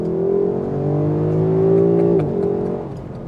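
A Lexus LC convertible with a 5-liter V8 of 464 horsepower revs loudly and steadily up close, the engine note climbing then dropping back near the end, with no talking.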